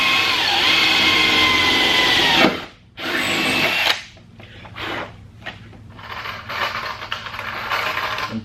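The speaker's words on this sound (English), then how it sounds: "Now we're gonna go ahead and drill down here." A power drill bores through a Mazda Miata KBD body kit panel for rivets, whining loudly and steadily, then cutting off abruptly, followed by a short burst and several quieter stop-start pulses.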